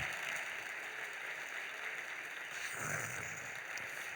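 Applause from a church congregation during a Sunday youth worship service, a dense, steady wash of clapping that holds at an even level throughout, with no talking over it.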